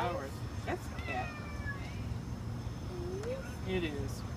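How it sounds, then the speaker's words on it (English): A cat meows twice in a garden where flowers are being watered, short rising and falling cries heard close by beneath a person's ongoing talk. "That's a cat."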